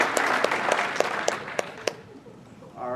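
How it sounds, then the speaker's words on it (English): At a conference keynote, an audience's applause thins out, with a few loud individual claps standing out in rhythm before fading away and a voice starting up at the end. "Give them a round of applause."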